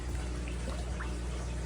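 About 2.5 milliliters of water conditioner poured into tap water for a fish tank, giving a steady close-up trickle and splash with no talking.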